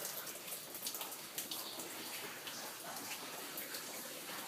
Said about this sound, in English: I got water dripping down through all the light fixtures.